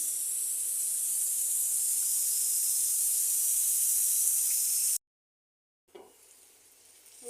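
Onions fry in a pan with a steady, loud hiss and sizzle for several seconds, then cut off abruptly, leaving a brief silence before faint kitchen sounds return.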